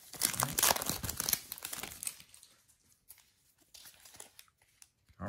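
Foil wrapper of a 2017 Panini Diamond Kings baseball card pack crinkling and tearing open up close, a loud burst of crackling at first that trails off into scattered softer rustles.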